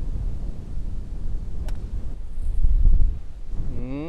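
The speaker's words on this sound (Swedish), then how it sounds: "Vinden påverkar väldigt mycket här." Wind rumbles across the microphone with a low, uneven roar that swells in the middle and eases again.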